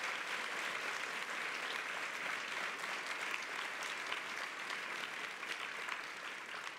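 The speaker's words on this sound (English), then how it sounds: "So join me again in a round of applause." Teachers at an AFT union session give a steady round of applause, a continuous wash of many hands clapping at fairly low volume, with no letup throughout.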